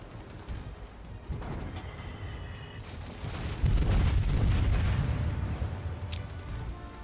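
Naval guns firing in the World of Warships game, a run of booming blasts and heavy low rumble building to a loud sustained roar midway, with crackling high noise on top.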